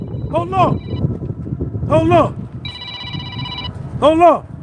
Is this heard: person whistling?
no